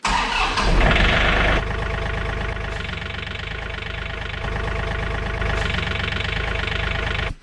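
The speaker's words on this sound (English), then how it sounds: "So let's start the tractor." John Deere 3046R compact tractor, 46 horsepower, cranking and starting: a brief burst of starter whir that catches into a steady diesel idle with a rhythmic clatter, loud and close.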